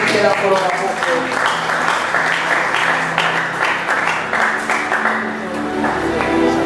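A church congregation at a Sunday service applauding its Lord: continuous, dense clapping from a large crowd, loud and steady throughout, with voices mixed in.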